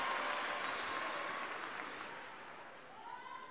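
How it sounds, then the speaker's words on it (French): Broad applause from an audience, steady clapping that fades slowly over a few seconds. "vous pouvez les applaudir quand même"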